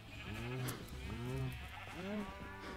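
Sheep bleat and cows moo in Minecraft, several rising and falling animal calls repeating one after another at close range over a low steady game background.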